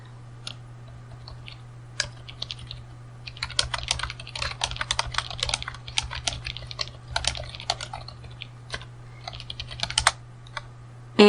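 Fingers type Python code on a computer keyboard, producing close, crisp key clicks in irregular bursts and short pauses over a steady low hum.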